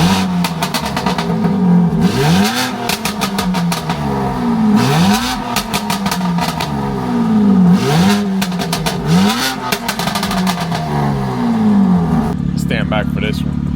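BMW G80 M3 Competition on an MHD 93 tune, fitted with an IRL 3.5-inch modular catback exhaust, valves closed, revved repeatedly in loud rising-and-falling blips that end in a steady idle.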